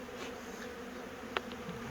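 Honey bees swarming into a bee house hum in a faint, continuous buzz, with a small tap or click standing out briefly near the end.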